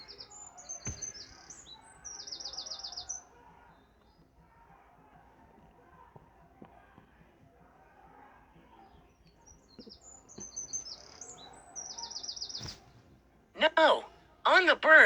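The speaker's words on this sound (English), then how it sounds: "The birds are chirping and the sky is blue." Birds chirping in a cartoon scene, bursts of quick high trilling tweets near the start and again later, with quiet background between and a louder voice-like outburst at the end.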